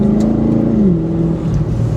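A Chevy SS with a custom tune accelerates on a test drive, its engine note loud and close, rising steadily and then dropping as it shifts gear partway through.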